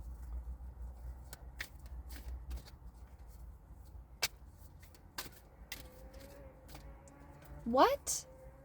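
Crisp, rapid card-shuffling riffles rustle close by, with a few sharp clicks and a brief rising whistle-like sound near the end.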